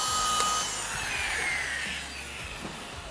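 A car polishing machine runs a final finishing pass on paintwork, a continuous whirring drone with slight shifts in pitch and load, fairly close and without talk.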